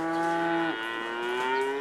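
Cow on a dairy farm giving one long, loud, close moo that drops in pitch midway and then draws out steadily.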